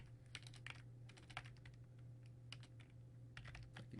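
Quiet typing on a computer keyboard, a quick irregular run of light key clicks over a steady low electrical hum, with no voices.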